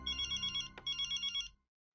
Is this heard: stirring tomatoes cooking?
no